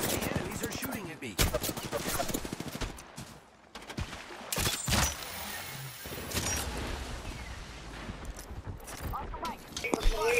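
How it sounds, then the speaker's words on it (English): Enemy gunfire in the Apex Legends video game, scattered sharp shots and short bursts at moderate distance, with gaps and some game sounds between volleys. "The enemies are shooting at me."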